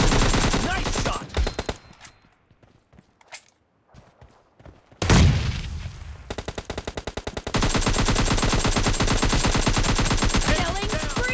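Gunfire in the mobile shooter PUBG Lite during a team deathmatch: rapid automatic bursts up close, a quieter gap with scattered single shots, then long sustained loud machine-gun fire.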